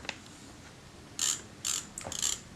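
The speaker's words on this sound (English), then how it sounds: "You're turning the take-up spool. The film is rotating the sprocket shaft as you go, which rotates this wheel under here." Film advance mechanism of a 35mm film camera under restoration, turned by hand as the take-up spool rotates: brief bursts of small ratcheting, clicking gear noise, close and alone, with quiet pauses between turns.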